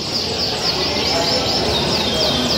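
Canaries singing at an indoor canary singing contest, with repeated trilling chirps over a dense, noisy hall background and people talking nearby.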